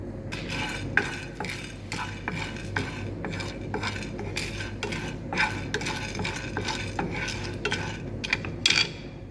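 Pumpkin seeds and five cardamom pods dry-roasting in a pan, a steady clatter of a spoon stirring against metal with continuous light rattling of seeds, close and fairly loud, no voices.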